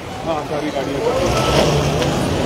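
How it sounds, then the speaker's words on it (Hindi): Cars driving away from a protest outside Farooq Abdullah's location in Jammu, a steady engine rumble from several vehicles mixed with crowd noise, loud and continuous, with voices over it. "ये तो सारी गाड़ियाँ निकल गई हैं"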